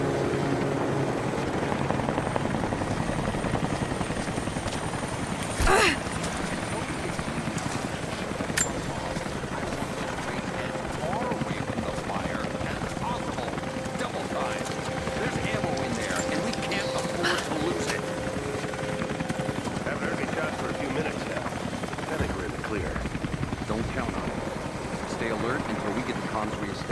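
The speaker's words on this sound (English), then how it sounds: "That was Constantine's chopper." Helicopter flying in the video game Rise of the Tomb Raider, a steady rotor drone running continuously under a busy game soundscape, with a couple of brief sharp impacts along the way.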